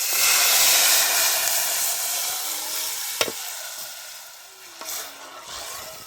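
Cumin, dried red chillies, curry leaves and asafoetida hit hot oil for a dal tempering. They give a loud, steady sizzling hiss that slowly eases, with a couple of sharp utensil clinks partway through. No one speaks.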